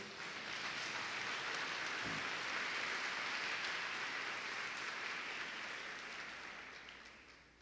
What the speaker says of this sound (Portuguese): Você pode dizer amém e aplaudir o nome de Jesus?